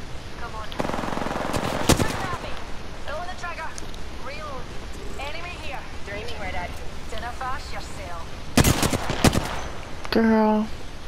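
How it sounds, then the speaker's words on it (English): Bursts of automatic weapon fire in Apex Legends, loud cracks early and a heavy cluster near the end, with rapid chirping effects and players talking throughout. "Yeah, I hear people shooting."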